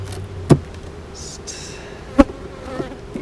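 Honeybees hum around an opened hive in a beekeeping yard, a faint steady buzz with a few closer passes, punctuated by sharp knocks of hive equipment.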